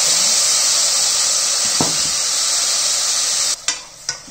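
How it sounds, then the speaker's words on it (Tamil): Onions and tomato sizzle in hot tempering oil for a horse gram curry, a loud, steady frying hiss throughout with a brief stirring scrape and a couple of clattering utensil knocks near the end. "இப்போ நான் பேலன்ஸ் வச்சிருந்த ஆனியனை வந்து இங்கே சேர்க்குறேன். தாளிச்சிட்டு இருக்கோம் நம்ம குழம்புக்கு."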